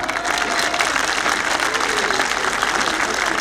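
Parents in a school annual day audience give a continuous, dense round of clapping after a musical performance, even and sustained for the full stretch with crowd murmur underneath.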